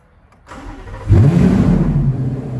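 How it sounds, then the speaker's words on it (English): A Chevrolet Corvette C8 Z06 fitted with Kooks headers cranks briefly, then fires into a loud, close bark that settles into a deep, rumbling idle. "So if I start this car right now"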